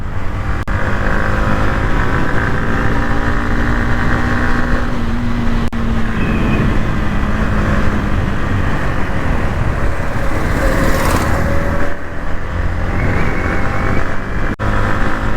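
A motorbike rides along an empty road in the morning, engine droning steadily and close with wind rush, the pitch climbing in stretches as it accelerates.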